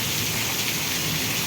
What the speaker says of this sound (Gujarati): એટલો વરસાદ પડ્યો ઘડીકમાં